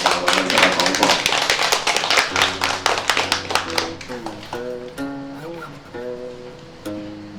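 Audience clapping to welcome a lecturer at a Buddhist-Taoist-Confucian talk, a burst of scattered claps fading out under someone speaking over them, sparse claps trailing at the end.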